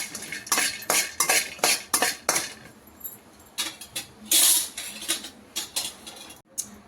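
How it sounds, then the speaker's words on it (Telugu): Green cardamom pods dry-roast in a pan for homemade garam masala, with a quick run of rattling, scraping stirs that slows into scattered clicks and shuffles. "1 స్పూను గ్రీన్ ఇలాచి వేసుకొని ఇది కూడా వేడి తగిలే వరకు ఫ్రై చేసుకోవాలి"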